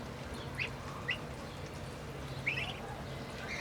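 Chinese duck ducklings about 40 to 45 days old give several short, soft quacks scattered over steady background noise, faint and somewhat distant.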